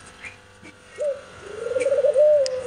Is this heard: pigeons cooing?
yes